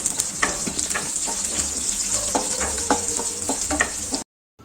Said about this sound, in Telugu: చిన్న చిన్నగా కట్ చేసుకున్న తెల్లగడ్డ, అల్లం వేసుకొని బాగా ఫ్రై చేసుకుందాము.